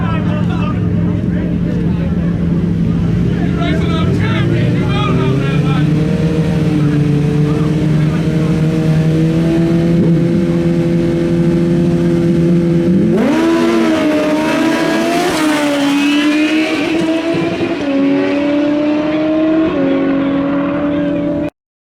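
A 2021 sport motorcycle, a GSXR 1000R or ZX10R, roars loud and close at a drag strip, a sustained engine drone that jumps sharply in pitch midway as it revs and pulls away.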